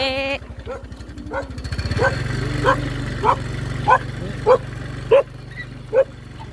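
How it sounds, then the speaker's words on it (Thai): Dogs at a house barking loudly in a steady run of sharp, evenly spaced barks, close by, over a constant low engine-like drone. "ไอ้คิวกับพ่อคิวพี่น้องเอ้ยมาเห่าสนั่นอยู่"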